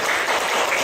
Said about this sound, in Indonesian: Kita tepuk tangan untuk kita sendiri semuanya